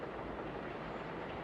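A train passes nearby, heard from a rooftop as a steady, dense rumble that holds at an even level with no talking.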